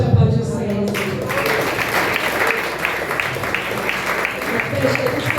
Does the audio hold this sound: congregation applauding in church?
yes